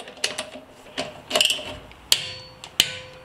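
A torque wrench with a 28–210 Nm range ratchets in short bursts of crisp mechanical clicks, with two sharper, louder snaps near the end, close up and without talk.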